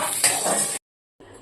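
Dal bori, lentil dumplings, frying in oil in a kadai, a loud hissing sizzle with a brief scrape, then a sudden cut to silence before a fainter sizzle resumes.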